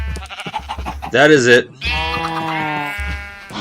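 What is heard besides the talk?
sheep bleating in the video game Minecraft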